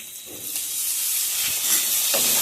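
Chopped tomato tipped into onion, garlic and spice paste frying in a pan for a home-style tengra fish curry, giving a steady loud hiss and sizzle that builds slightly and holds throughout, with no talking.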